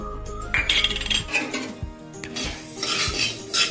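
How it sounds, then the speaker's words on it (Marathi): Coriander and dill seeds being dry-roasted in a hot iron wok over a switched-off flame: close, busy rattling, scraping and metallic clinks from stirring, with no talking. "आता हे धने शेपू जरा गरम करून घेते, त्याच गरम कढईत"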